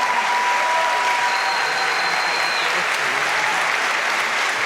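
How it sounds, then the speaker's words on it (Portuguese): Steady applause from a large seated audience at a symphony orchestra concert, dense and even throughout, with a faint tonal line briefly audible above the clapping. "Sentado, o público aplaude."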